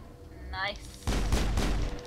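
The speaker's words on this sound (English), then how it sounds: "Hit shots with a pistol." Pistol shots in the Mass Effect video game: after a short quiet lead-in, a rapid cluster of three or four loud, sharp reports fires in close succession.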